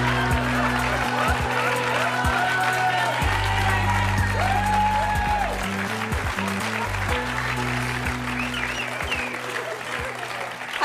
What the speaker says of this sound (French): je demande d'accueillir et d'applaudir Insane, chaleureusement